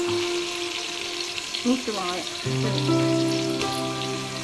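Onions sizzle and fry in hot oil for a mutton biryani, a steady crackling hiss running close throughout while someone talks over it.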